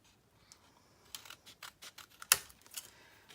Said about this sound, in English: I'm just going to make it into a tag shape. So I'm going to cut off the ears